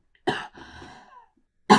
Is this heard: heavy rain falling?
no